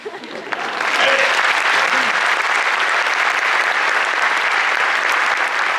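An audience at a religious music performance bursts into loud, sustained applause, a dense continuous roar of clapping that swells in and holds steady.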